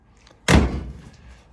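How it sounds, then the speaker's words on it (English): A solid door on a Pontiac car shuts with one close, heavy thunk that rings out briefly, with nothing else around it. "doors are solid on this car. They close like butter."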